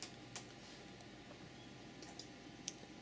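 Computer mouse clicks during a Mac mini setup: a few faint, crisp, isolated clicks scattered over a quiet background hum.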